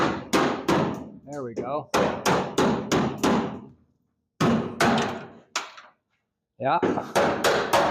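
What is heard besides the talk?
hammer tapping bolts through truck chassis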